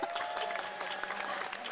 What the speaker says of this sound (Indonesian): kita berikan tepuk tangan untuk Najwa Shihab